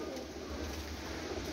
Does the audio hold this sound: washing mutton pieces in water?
no